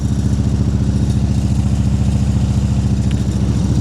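A motorcycle engine runs loud and close in a steady pulsing chug, its rhythm unbroken for the whole stretch with no talking.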